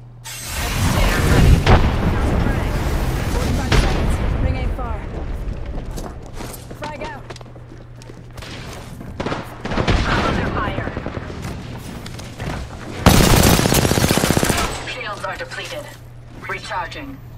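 Gunfire and a grenade blast in a squad-based shooter video game, with a loud burst early, sustained bursts of shots, and another heavy blast near the end, under a steady hum and players talking.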